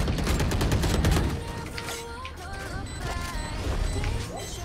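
Rapid gunfire in the Valorant shooter game, a dense burst of shots in the first second followed by quieter scattered game sounds and tones.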